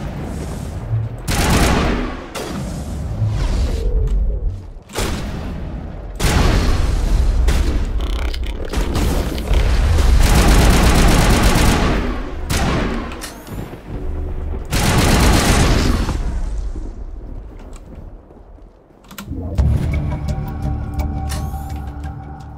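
Gunfire in the video game Mass Effect Legendary Edition, loud and dense: sustained bursts of automatic fire and heavy booming blasts follow one another almost without pause, easing off toward the end.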